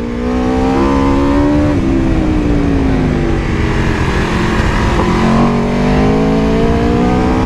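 An Aprilia RSV4 superbike engine roars loud and close with a continuous high-revving howl, its pitch shifting up and down across the run.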